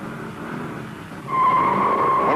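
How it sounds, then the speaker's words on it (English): A Dodge Challenger with a Hurst shifter launching with the clutch popped on asphalt, a close engine rumble that suddenly swells into a loud, sustained tire squeal as the rubber bites. "When we popped the clutch on our third time out of the hole, those big rubber donuts bit hard into the asphalt"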